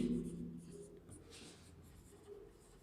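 Writing out a chemistry definition on types of chemical reactions: soft, scratchy strokes close by at low level, under a faint background hum.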